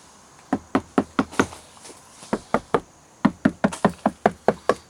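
Knuckles rap on a car door fitted with two layers of sound deadening, a quick series of solid, dull knocks in three bursts, close and loud with no talking.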